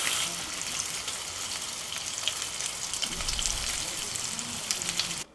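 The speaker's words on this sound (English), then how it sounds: "heated up my cast iron skillet, and all we're going to do, we're now going to put some bacon on, let that become crispy" Bacon frying in a hot cast iron skillet, a steady close crackling sizzle with scattered pops that runs unbroken for several seconds and then stops abruptly.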